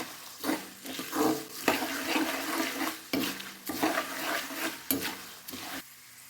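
Turmeric and salt being stirred into puffed rice for a North Karnataka garlic snack, with repeated scraping and rustling strokes against the pan in a steady rhythm, fairly close and loud, no talking.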